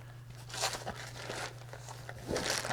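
Cardboard and plastic packaging crinkles and tears as a box holding vintage Macs is opened, several close rustling bursts over a steady low hum.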